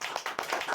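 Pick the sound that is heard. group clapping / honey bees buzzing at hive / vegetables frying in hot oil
group clapping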